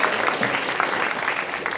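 Audience applause at an international community event, a dense steady wash of many hands clapping close and loud, filling the whole moment without talk.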